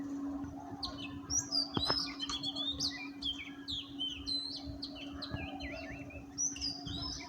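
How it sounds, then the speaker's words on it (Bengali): An oriental magpie-robin sings a varied stream of sweet, whistled phrases over a steady low hum and light background noise. "কি অসাধারণভাবে ডাকছে এই বাংলাদেশের জাতীয় পাখি দোয়েল"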